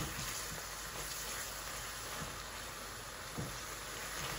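Okra (bhindi) and turai (ridge gourd) fry in ghee over a high flame, giving a steady, dense sizzle and hiss that continues evenly throughout with no voices.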